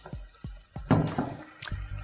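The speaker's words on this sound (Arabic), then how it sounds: "انا هزود حبه ميه صغيرين" A little water is poured into a cooking pot for a fish and vegetable dish, with a few close drips and splashes and a short burst of pouring in the middle.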